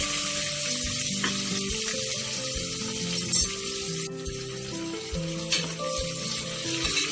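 Onions frying in a pan for brinji, a continuous close sizzle with occasional stirring clicks and scrapes.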